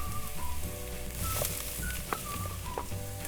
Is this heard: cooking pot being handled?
no